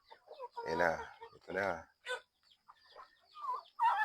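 Small chickens on a backyard farm cluck and squawk in short close bursts, mixed with a man's brief speech in a quiet outdoor setting.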